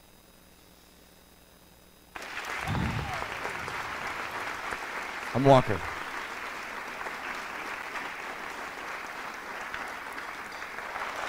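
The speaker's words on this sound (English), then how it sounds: "Let's get a big round of applause." After a quiet start, an audience breaks into sustained applause that keeps going, with someone briefly speaking over the clapping.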